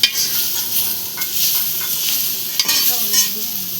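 Tomatoes go into fried onion in a pan for a village-style egg curry, with a bright steady sizzle and quick stirring scrapes, a few clinks of utensil on metal, close up with no speech.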